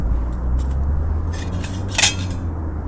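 A metal pot holder for an Ohuhu wood-burning camping stove is handled outdoors in winter cold. It gives a few light metallic clinks and rattles, with one brighter clatter near the end.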